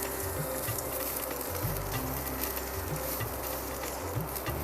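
Half a cup of grated coconut roasting in a kadhai for a shiralyachi chutney, a steady close hiss and sizzle with faint low clatter, no talk.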